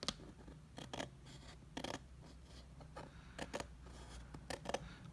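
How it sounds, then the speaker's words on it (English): Scissors held at a slight angle trim a planner cover, cutting in a string of quick, crisp snips with light papery scraping between them, close and quiet, with no talking. "I'm taking my scissors at a very slight angle"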